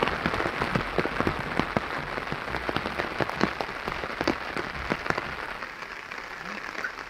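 Rain falls steadily in a mountain village, a dense patter of drops on surfaces with sharper splashes scattered throughout, close and constant.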